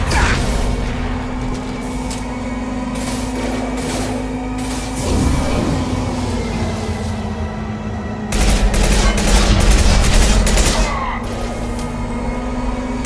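Sustained combat gunfire from the video game Mass Effect 2, dense overlapping rapid shots and bursts mixed with a steady low hum, intensifying midway.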